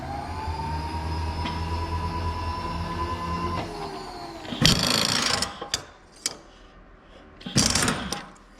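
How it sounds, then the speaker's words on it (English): A milling machine runs with a steady whine and hum, which then winds down before its table is lowered in a few bursts of loud mechanical grinding and clunks, with quieter pauses between them. "Okay, bring the table down again."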